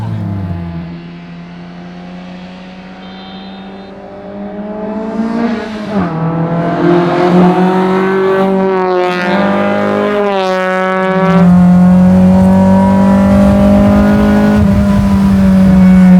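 A classic Mini fitted with a Honda Type R engine revs loudly up through the gears, its droning pitch climbing, dropping at each shift, then climbing again in a sustained roar.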